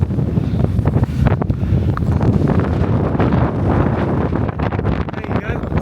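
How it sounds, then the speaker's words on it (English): Strong gusty wind buffets the microphone on the exposed summit of Brown Clee Hill in Shropshire, a loud, continuous roaring rumble with flapping bursts throughout. "So windy up here."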